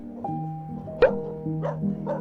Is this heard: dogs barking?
yes